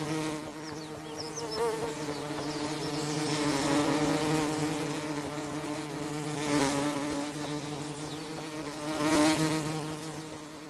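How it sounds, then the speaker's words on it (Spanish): Bees and wasps buzz continuously around feeding hummingbirds, a steady insect drone that swells louder in a few close passes as they fly near, with no talking. "cuando los visitantes son abejas y avispas, la cosa cambia"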